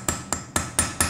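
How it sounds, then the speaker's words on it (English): A hammer taps a chisel five times at an even rhythm while a rune necklace is forged, each blow a sharp, close metallic strike with a short ringing decay and no voices. "lightly tap the hammer and then move the chisel out"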